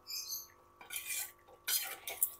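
Jackfruit curry (echor kalia) finished with ghee and garam masala is served from a pan, metal utensils clinking and scraping in several short bursts with quiet pauses between.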